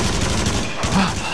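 Machine gun fire in the VR shooter game Until Dawn: Rush of Blood, a dense burst of rapid shots filling the whole moment, loud and close against a busy game soundtrack.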